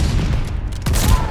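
Shotgun blasts in the video game Call of Duty: Vanguard, a couple of heavy booming shots in quick succession with a dense, punchy low rumble and game ambience between them.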